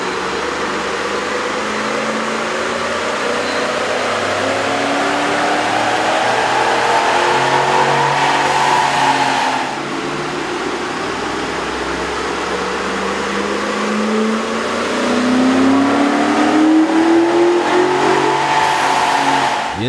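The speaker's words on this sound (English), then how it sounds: "we ran the vehicle and the dyno to test the sound comparison versus the stock intake" A 2007-2012 Ford F-150 with the 5.4-liter V8 and a K&N Aircharger cold air intake is revved on a chassis dyno, its loud engine tone rising and falling in long sweeps that continue steadily for about twenty seconds.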